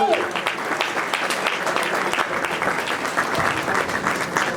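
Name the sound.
audience applause at a candidates forum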